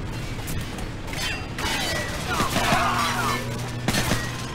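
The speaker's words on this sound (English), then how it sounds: "Flashbang out." Flashbang grenade and gunfire in Call of Duty Modern Warfare: a burst of sharp cracks and a blast with ringing, metallic clatter and scattered shots under a low game hum.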